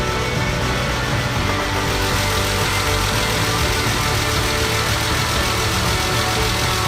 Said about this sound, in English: That is the car's first start in over 7 years, and it has fired straight up.